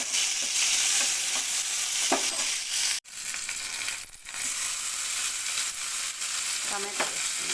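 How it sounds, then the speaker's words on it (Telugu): Washed curry leaves and garlic crackling in hot oil for dhaba-style dal, a loud continuous sizzle with stirring scrapes, a sharp brief dropout partway through, and no talking. "కడిగి పెట్టుకున్న కరివేపాకు వేసుకోవాలి."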